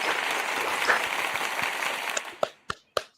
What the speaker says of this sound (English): Give a round of applause to Smitty Soul Shack.